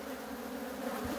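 Honeybees at a hive in Ardahan in October, a steady close droning buzz with no pauses and no talking.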